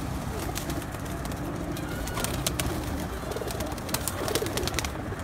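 Domestic pigeons coo steadily at a home loft, their soft repeated calls layered over a busy, noisy background for the full stretch, with faint voices mixed in.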